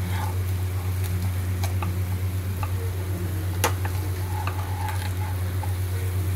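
Fish heads and eggplant being stirred through oily spice mix in a pan, a steady sizzle with scattered clicks and scrapes of the spoon, alongside a constant low hum.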